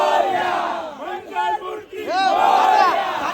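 Team members and a crowd cheer and yell loudly at a kabaddi event in Nashik, dense whooping shouts rising and falling over a few seconds.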